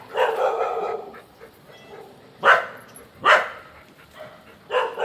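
Several dogs at an animal shelter bark in short bursts, a rough stretch of barking followed by separate sharp barks and yips at varying distances, with no talk.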